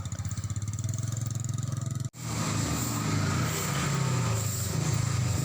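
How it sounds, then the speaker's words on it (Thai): A grass trimmer's small engine runs steadily outdoors with a buzzing, pulsing tone, cuts out for an instant, then carries on amid rough mechanical noise. "เสียงเครื่องตัดหญ้าไม้กวาดและอุปกรณ์อื่นๆ ดังผสมปนเป"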